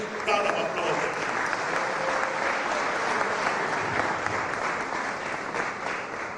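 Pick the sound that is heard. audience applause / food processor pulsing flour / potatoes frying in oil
audience applause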